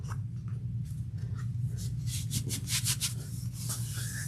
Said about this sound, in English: I'm trying to remove the threads